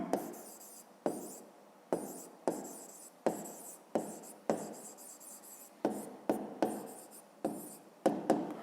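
Pen strokes on paper during a fifth-grade maths exercise, a series of quick scratchy bursts about once a second, close and dry, with no talking.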